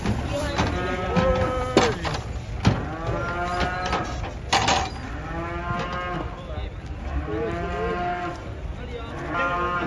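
Cattle unloaded from a truck moo repeatedly, several long, loud calls close by, with clattering of hooves and metal and people talking in the background.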